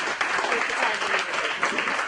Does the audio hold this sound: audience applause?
yes